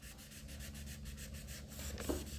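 Steady hand sanding with fine 1000 grit sandpaper, a continuous soft rubbing swish, close and moderately loud, with a brief scrape near the end.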